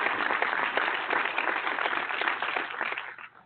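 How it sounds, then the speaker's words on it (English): Brief burst of clapping, steady and moderately loud, dying away in the final half second. "Applaud them"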